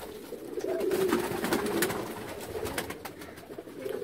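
Pigeons coo in low, rolling calls nearby at a rooftop pigeon loft, with a few sharp clicks and rustles in the background.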